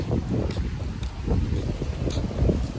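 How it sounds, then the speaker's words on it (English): Strong wind buffets the microphone outdoors ahead of a storm, a continuous loud low rumble with gusty surges throughout and no one talking. "I don't know if y'all can hear us because of the wind, but it's windy"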